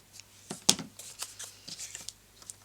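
Cardstock for a scrapbook card is trimmed at close range, a string of quiet crisp snips and paper rustles with one sharper cut near the start, over a near-silent background.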